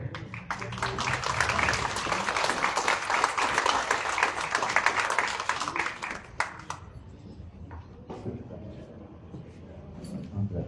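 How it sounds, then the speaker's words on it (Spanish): An audience in Peru claps to welcome a professor and engineer to the lectern at a floral tribute ceremony. Dense clapping rises and holds for several seconds, then thins into scattered claps. A voice speaks over the tail. "Aplausos, por favor."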